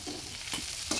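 Hilsa fish frying in a pan for a village-style curry, with a steady sizzle and a few scraping stirs, ending in one louder knock of the spatula.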